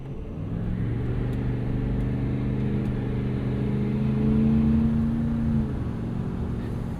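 A 2016 Ford F-350 Lariat Super Duty with the 6.7 Powerstroke diesel cruises along, its engine a steady low drone with a slowly rising tone under road rumble, close and continuous throughout.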